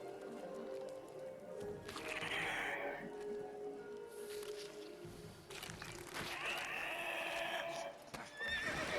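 A horse whinnies and its hooves clip-clop in the video game Witcher 3, with a loud neigh partway through and another near the end, over a busy, dense game soundscape.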